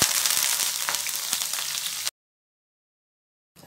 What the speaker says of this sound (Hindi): देखिए मैं इसे कड़ी पत्ते ऐड करूँगा।